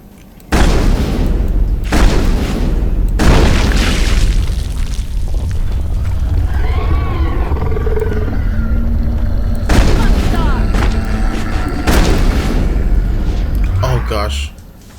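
Heavy grenade explosions thunder in the Mass Effect video game, several loud booming bursts spaced across the stretch over a constant rumbling battle bed, with voices and game sounds mixed in between.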